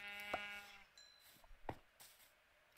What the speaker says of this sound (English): Hey you, sheep.